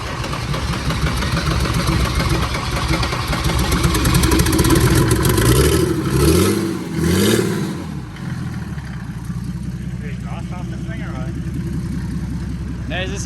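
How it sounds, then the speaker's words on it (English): A Mercedes OM606 diesel engine idles with a steady clattering rumble, revs up twice in quick rises and falls, then settles back to a rough idle, while people talk over it. "so the Mercedes is up and running"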